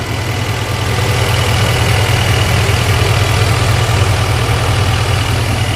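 A 2024 Chevy Silverado 2500HD diesel truck engine idles close by, a steady, loud, low rumble with constant clatter and no break.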